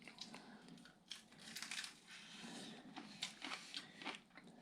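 Crispy oven-baked chicken wings crunch in short, close bites, a series of crackly chewing bursts repeating across the stretch with no talk over them.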